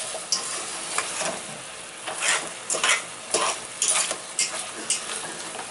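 Chicken sizzles in a pan as its liquid cooks off, with repeated close scraping stirs of a utensil against the pan over a constant fry.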